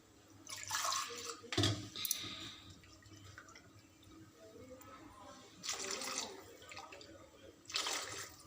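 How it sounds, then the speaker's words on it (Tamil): Water poured into a pot of tamarind curry with garlic, faint splashing and trickling bursts that come and go, with quiet kitchen background between pours. "இப்போ தேவையான அளவு நம்ம தண்ணியும் ஊற்றிக்கிறோம்."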